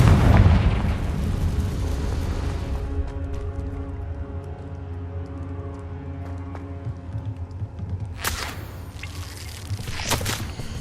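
Confringo blasting spell from Hogwarts Legacy on Xbox Series X: a loud booming blast at the start, then a long rumbling decay with sharper crackles and bursts near the end.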